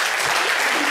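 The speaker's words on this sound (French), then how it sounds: "Et on va applaudir Alexis Glaçon." A live audience at a public talk breaks into a brief burst of dense clapping, loud and close, filling the whole moment with a steady wash of hands.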